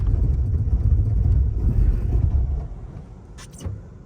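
An Audi e-tron on Nokian tires braking hard on snow: a loud low rumble of tires and road noise inside the cabin that eases as the car slows, ending in a brief creak.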